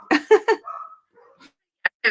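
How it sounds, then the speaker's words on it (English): Dogs bark at someone at the door in a quick burst of three sharp barks, followed by a whine, a pause and two more short barks, close and fairly loud. "my dogs decided to tell me there's someone at the door"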